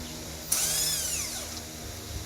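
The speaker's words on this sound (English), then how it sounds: "I had to impact these out lightly" Pneumatic impact wrench loosening lug nuts on a 2001-2005 Ford Explorer during a brake job, a single loud close burst of whirring and hammering that winds down over about a second in a garage hum.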